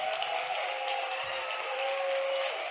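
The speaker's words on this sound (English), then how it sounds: "if you could all just give her another huge round of applause" A conference audience gives a sustained round of applause, even and continuous, heard at a moderate distance and fairly soft, with a faint tonal hum running under it.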